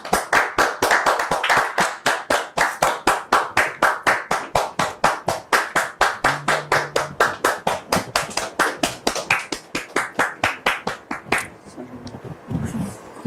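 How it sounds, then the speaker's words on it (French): An audience at a televised talk show claps in brisk, even unison for over ten seconds to welcome a guest, then the clapping breaks off and a few scattered sounds and a voice follow. "Merci de recevoir notre frère sous vos applaudissements."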